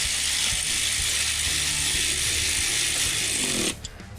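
A hand ratchet tightens a fuel rail pressure sensor on a 2005 Mercury Mountaineer, a rapid, close, steady clicking of the pawl that runs for several seconds and then stops, leaving a few faint knocks.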